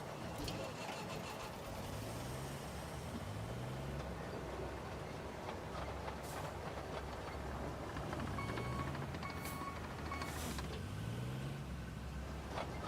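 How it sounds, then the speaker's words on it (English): A tarmac paving machine in the RoadCraft video game rumbles steadily with a low droning engine and mechanical hum throughout, moderately close, alongside faint clanks and a voice talking over it. "Now we bring in the tarmacker."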